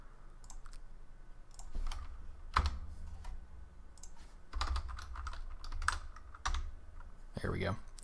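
Typing on a computer keyboard at a desk during coding work, a close run of irregular clicky keystrokes in quick bursts, with a brief soft voice near the end.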